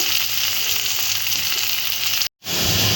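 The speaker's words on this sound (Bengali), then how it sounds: "ক্যাপসিকামটা একটু নাড়াচাড়া করে একটু নরম করে নেবো তার সাথে সাথে একটু পেঁয়াজ দিয়ে দিলাম" Chopped capsicum and onion sizzle loudly in a hot pan while being stirred for Maggi noodles. The frying hiss holds steady, cuts out briefly near the end and then resumes.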